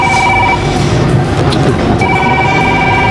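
Phone ringing with an incoming call, a steady electronic two-tone ring that stops partway and resumes, held under loud continuous background noise, no speech.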